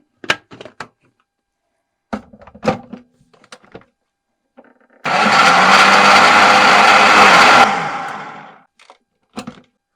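An electric blender runs for about two and a half seconds, whirring loud and steady as it mixes a chicken marinade of garlic sauce, yogurt, mustard, spices and water. Scattered kitchen clatter and knocks come before and after it.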